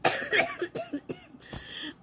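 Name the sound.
coughing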